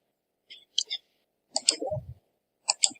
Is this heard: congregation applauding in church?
no